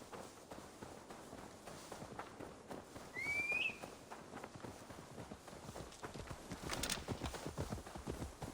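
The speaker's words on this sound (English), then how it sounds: "Now to deliver Magni his horse." Faint horse hooves clop in a steady rhythm in Assassin's Creed Valhalla, with a short whistle partway through, all quiet and somewhat distant.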